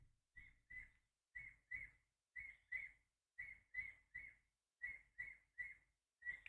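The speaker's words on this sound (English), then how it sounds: "You can probably hear the bird outside." A bird outside gives short, bright chirps in quick pairs and triplets, repeating at a steady rhythm with brief gaps, fairly clear and close.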